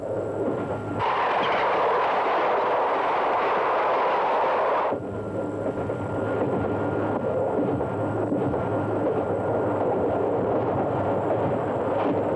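A Belgian multi-current electric locomotive rumbles across the border between voltage systems, a continuous heavy rolling drone with a dense low roar that shifts partway through, steady and close throughout.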